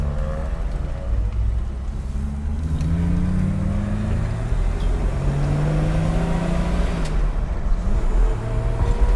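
A 1965 Ford Mustang drives along with a loud, close, steady engine drone whose pitch rises and falls as it moves through the gears, over road noise with no talking.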